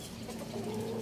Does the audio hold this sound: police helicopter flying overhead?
no